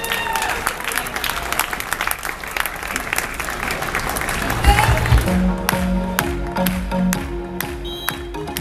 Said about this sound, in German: Der Applaus